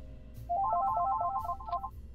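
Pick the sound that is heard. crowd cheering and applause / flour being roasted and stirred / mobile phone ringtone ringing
mobile phone ringtone ringing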